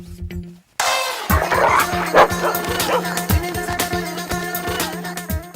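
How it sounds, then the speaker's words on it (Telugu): A dog barks and yelps in quick, loud bursts close by, with whimpering cries and a steady rhythm of yips over a busy background. "ఇది మన కుక్కలా ఉంది."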